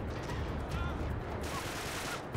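Rapid bursts of enemy gunfire in the Uncharted 3 video game, a dense continuous fusillade of shots loud and steady throughout, with no talking over it.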